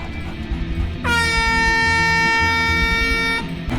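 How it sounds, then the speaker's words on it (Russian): Loud, sustained blast of an MLG-style air horn used to scare off a wolf at a ranch in the game WolfQuest: Anniversary Edition, one long honk of about two seconds over quiet game ambience. "пугать волка гудком из MLG"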